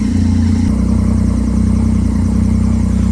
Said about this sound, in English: After the engine reaches optimal temperature, slight adjustments are made to get everything perfect.